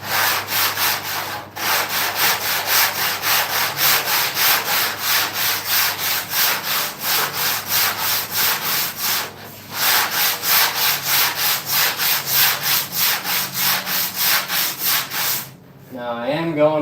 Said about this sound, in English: I am holding the sandpaper flat the whole time